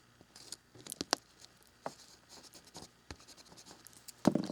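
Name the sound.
eraser rubbing charcoal powder background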